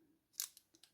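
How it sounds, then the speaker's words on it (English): Small scissors snip a little hole, likely in paper or plastic for a dessert mould, giving one sharp close cut followed by a couple of lighter snips, quiet and alone. "Now I'm just going to cut a small hole."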